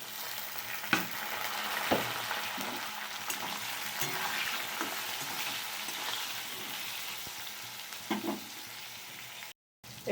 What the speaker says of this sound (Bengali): আলুটা এক খোলা ভাজা হয়ে গেছে।